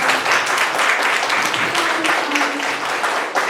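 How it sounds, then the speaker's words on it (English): A room of attendees at a National Black MBA chapter general body meeting clapping for Alex, a dense, steady round of applause held at an even level throughout, with faint voices mixed in. "let's give Alex a round of applause"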